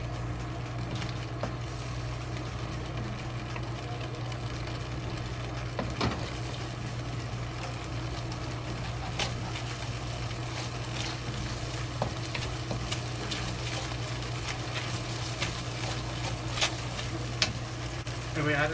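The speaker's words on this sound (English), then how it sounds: "Let's stir it." Stuffed tofu with ground beef sizzles and fries steadily in a pan while being stirred, with scraping clicks over a constant hiss and a low background hum.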